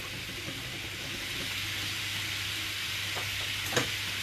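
Salmon and cod fillets fry in a pan with a steady, close sizzle and crackle throughout, a low hum underneath and one brief sharper pop near the end; no one speaks.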